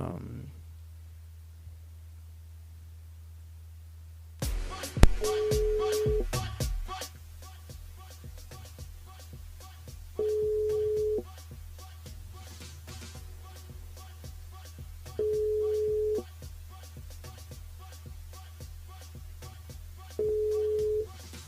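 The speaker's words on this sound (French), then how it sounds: "On appelle Marie-Claire sur le standard du côté de Sainte-Marie" A telephone rings out on a call placed from a radio show to a listener, giving four evenly spaced ring bursts about five seconds apart over a steady line hum, with a click at the start.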